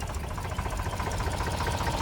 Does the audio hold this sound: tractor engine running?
yes